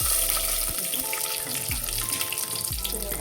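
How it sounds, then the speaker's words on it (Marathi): Whole spices drop into hot oil and sizzle with a loud, steady, close crackle, punctuated by a few low thumps, and no talking. "आता हे खडे मसाले टाकून घेते."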